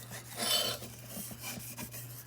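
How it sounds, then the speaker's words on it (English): A knife blade is rubbed on a leather strop after whetstone sharpening of a Japanese knife, giving soft raspy strokes that repeat irregularly over a low steady hum, close and fairly quiet. "Just rub that blade on that leather, and then you flip it over on your smooth side."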